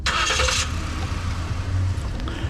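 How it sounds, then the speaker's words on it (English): A 2018 Ford Explorer Police Interceptor engine starts by remote start, a short cranking burst followed by a low, steady idle rumble close by. "Hit the button and it's going to start the engine."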